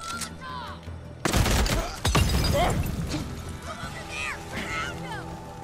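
Molotov cocktails smash and burn in the video game Days Gone, a sudden loud crash and burst of flame followed by crackling fire and scattered impacts, with brief chirping sounds over the din.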